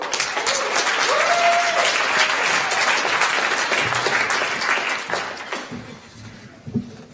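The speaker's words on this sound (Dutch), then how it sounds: "een hartelijk applaus voor Jeroen Bergs" An audience at a free-speech festival gives warm applause for a speaker, sustained dense clapping that thins and dies away near the end, followed by a few faint sounds.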